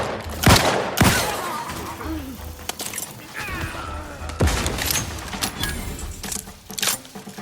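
Gunfire bursts in The Outer Worlds 2 combat, with loud sharp shots near 0.5 s, 1 s and 4.4 s plus scattered quicker rattling fire, mixed with game noises and a voice in the background.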